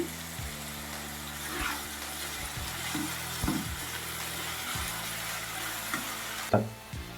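Brinjal and meal maker chunks fry with curry leaves in a pan, giving a soft sizzle with intermittent stirring scrapes and clinks. A low steady hum runs underneath throughout.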